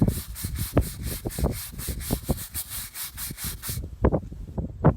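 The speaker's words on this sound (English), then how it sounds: "Sometimes a little agitation really helps it along too" A brush scrubs rust remover back and forth over a rusty concrete surface in quick, gritty rhythmic strokes, close and steady, then stops, leaving a few scattered knocks.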